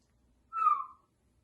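One person whistles a single clear note, held about half a second and sliding slightly downward, alone in a quiet room with no talking.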